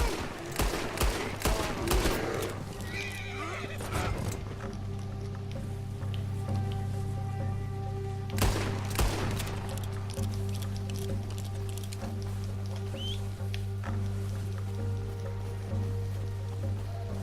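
Rapid gunfire in the video game Red Dead Redemption 2 comes as a cluster of sharp shots early on and another burst midway, over a low steady in-game background hum.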